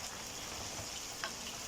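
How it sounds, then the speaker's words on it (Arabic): Cubed potatoes being stirred into tomato sauce in a hot pan, a steady soft sizzle with a faint scrape of the stirring utensil near the end. "نزلت بالبطاطس المكعبات جوه الصلصه. تمام. هديها تقليبه."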